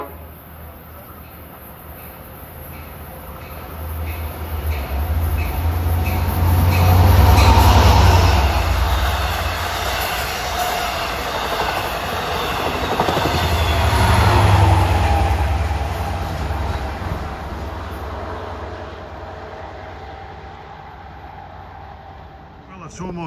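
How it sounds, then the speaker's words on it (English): LIRR dual-mode train 619 from Port Jefferson to Penn Station rolling past at Carle Place, a loud sustained rumble of wheels and cars that swells twice as the train passes close by. "This train 619, the last of the dual modes we will see. This runs from Port Jefferson to Penn Station."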